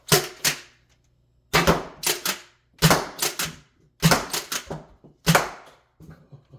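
Foam Nerf darts strike taped-up destructible target panels in rapid paired bursts, sharp close clacks repeating in five quick clusters separated by short pauses.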